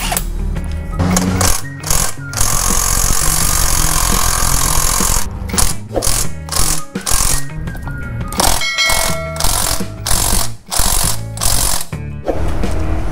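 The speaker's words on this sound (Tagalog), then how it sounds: "so gamit tayo ng impact wrench size 14" A loud, close impact wrench with a 14 mm socket hammers in repeated rattling bursts with brief gaps between them, working on the brake pad bolts of a Yamaha NMAX V2 scooter.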